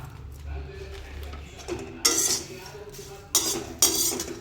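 Metal spoon scraping and clinking in a pan as pumpkin and sunflower seeds roast with a handful of rose petals, a few sharp stirring bursts after a quieter start.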